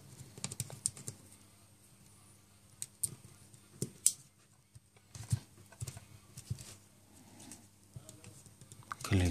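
Small plastic clicks and taps as the button is fitted back into an HTC HD2 smartphone during reassembly, scattered irregular close snaps over a quiet background.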